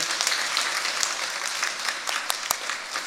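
A church congregation gives a round of applause, a continuous patter of many hands with a few sharper individual claps standing out near the end.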